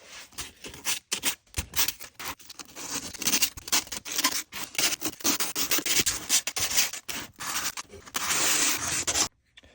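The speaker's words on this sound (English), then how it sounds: "So I'm just going to sand a few high points." Sandpaper scrubs over the high points of a dried foam model railroad viaduct made to look like concrete. Brisk, close, irregular rubbing strokes run continuously and stop abruptly at the end.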